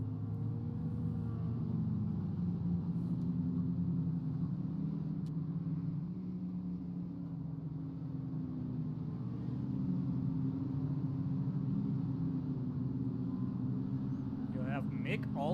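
Dirt rookie mini stock race cars roar around the Fairbury Speedway dirt track in a steady, distant engine rumble that never lets up. An announcer talks over it throughout.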